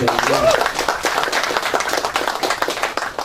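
Audience clapping at a PSI party regional meeting with the Biak Numfor regent, a scattered run of claps heard under ongoing talk in a hall.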